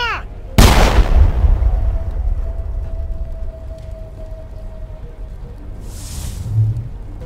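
A loud gunshot blast rings out in the video game Mass Effect: Legendary Edition, then a long decaying rumble with a thin sustained tone, and a softer swish near the end.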